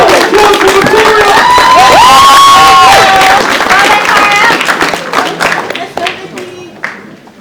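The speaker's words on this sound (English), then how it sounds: "Applause for Victoria." Loud crowd at a school assembly cheering and clapping, with shouts and whoops over steady applause that gradually dies down toward the end.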